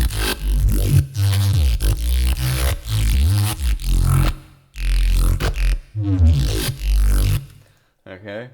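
A thick Reese bass synth with a flanger placed before the reverb grinds loud and close in sustained phrases with a swirling, moving character, dropping out briefly and ending on a short stab.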